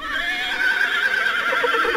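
A horse neighs loudly in an audio drama adaptation of Poe's The Fall of the House of Usher, a close, drawn-out whinny with a faint hoof clop at the end, no talk.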